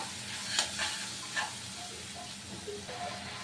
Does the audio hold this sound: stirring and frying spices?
yes